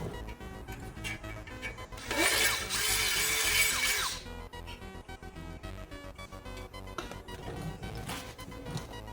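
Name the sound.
power drill drilling a hole in a Cadillac Escalade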